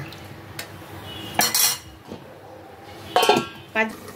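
A lid set onto a pot of fish curry with potatoes simmering in water, a couple of short metallic clanks and rattles separated by quiet pauses, close by.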